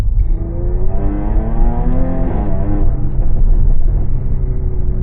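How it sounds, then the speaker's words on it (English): A Jaguar F-Type with a MADNESS GOPedal Plus throttle controller accelerates through a residential neighborhood, its loud, close engine note rising steadily in pitch, then easing off toward the end, with no talking. "I just barely push on the gas and it takes off more than it would without the GOPedal"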